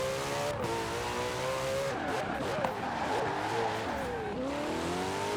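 A Ferrari 488 GTB with all-wheel drive launching hard in Forza Horizon 4, its engine note climbing through several gear changes with brief dips between shifts, loud and continuous.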